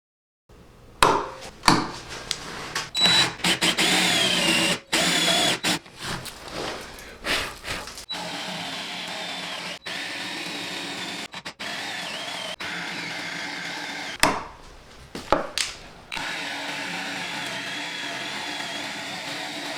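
A drill bores 1-inch holes through wooden tree staves in loud, sustained bursts separated by short pauses and clunks, with a whining tone running under the grinding.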